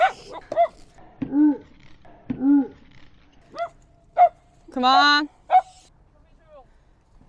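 A dog close by lets out short yips and thin, whimpering whines in separate bursts, with one longer whine in the middle, and a person speaks briefly between them.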